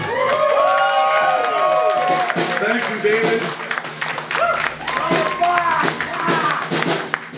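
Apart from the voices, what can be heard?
audience applause and cheering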